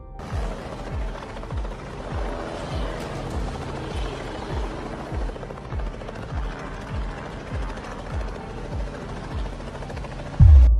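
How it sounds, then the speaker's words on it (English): A helicopter comes in to land, its rotor giving a fast, regular chopping thump throughout, moderately loud and steady, ending with a sharp louder bump at touchdown. "that might just be the most pleasing landing I've seen a helicopter pilot pull off"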